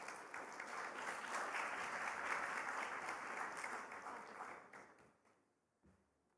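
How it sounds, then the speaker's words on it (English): Applause at the EBS 2025 graduation ceremony in Dubai, dense clapping from a large audience that swells, holds steadily for several seconds, then tapers off and fades out near the end. "A round of applause, please."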